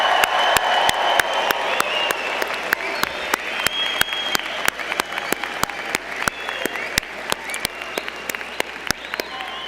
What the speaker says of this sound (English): let's give a round of applause to our graduates